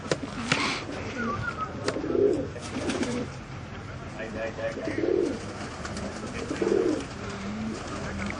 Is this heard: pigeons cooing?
yes